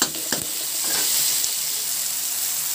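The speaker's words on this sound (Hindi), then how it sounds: "टमाटर को 2 मिनट तक अच्छे से मैं पका लेती हूँ" Tomatoes with salt cook in a pan on a home stove, giving a steady, close hiss of sizzling that stays even throughout, with a few faint stirring knocks near the start and no talk.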